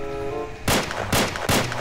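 A rifle fires in a VR shooter game played with a rifle adapter: three loud, sharp shots at even intervals, each ringing briefly after a quieter tonal lead-in, no speech.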